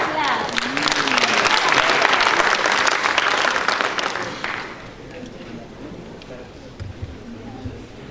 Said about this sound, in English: deserve a better clap.